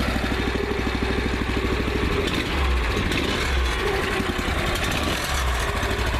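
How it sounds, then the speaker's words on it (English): A Norwood LM29/LM30 portable sawmill engine runs loud and close, a steady mid-pitched idle that rises as it is throttled up partway through. "We have accomplished ignition. Let's see if we'll throttle up."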